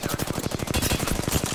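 Rapid automatic gunfire in the video game Apex Legends, a fast, evenly spaced string of loud shots rattling without pause throughout.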